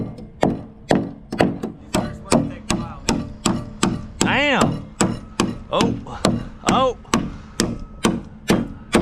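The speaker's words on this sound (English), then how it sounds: "All right, let's nail this off." Hammer blows drive nails into wooden roof framing. The strikes land at a steady rhythm, close and loud, and a couple of short exclamations break in partway through.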